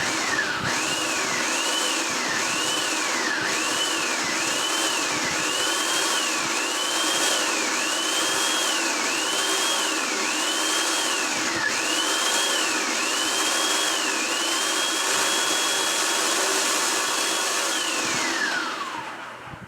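A food processor blends a chocolate mousse mixture in a loud, continuous whir whose motor pitch rises and dips in repeated pulses, then winds down at the end, close and with no talk.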